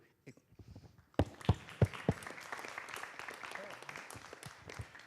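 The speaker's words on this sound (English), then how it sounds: "we all deserve a hand of applause for the great job that we all collectively do" Audience applause at a board of directors meeting, a burst of clapping that starts after about a second and carries on to the end, with scattered louder claps and a little voice at the start.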